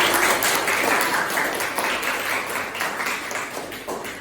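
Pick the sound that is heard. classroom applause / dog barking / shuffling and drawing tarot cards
classroom applause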